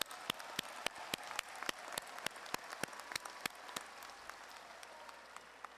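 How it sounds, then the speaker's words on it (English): Audience at a Lamar University College of Education commencement clapping for the 2017 graduates, a fairly quiet, distant round of applause with sharp individual claps standing out in an irregular rhythm. "Let's give our graduates a round of applause."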